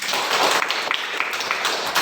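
Applause for a student in a primary school classroom lesson, a short burst of many hands clapping together, fairly close and dense throughout.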